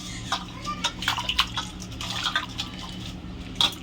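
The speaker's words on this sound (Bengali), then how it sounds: "এবার একটু ধুয়ে নেব জল দিতে" Catfish being rinsed by hand with water, with splashing, dripping and pouring that comes in small bursts close up. A quiet voice speaks now and then.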